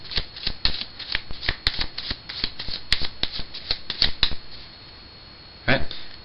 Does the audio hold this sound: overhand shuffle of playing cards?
yes